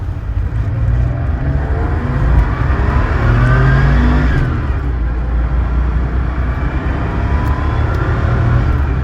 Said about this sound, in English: The car just rips so fast.